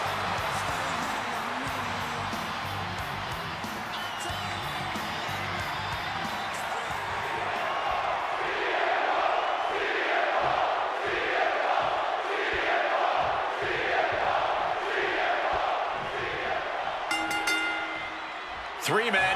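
A wrestling arena crowd in the video game WWE 2K26 cheering during a match with CM Punk, Randy Orton and Batista, a loud sustained roar with rhythmic chanting swells building midway, heard under commentary.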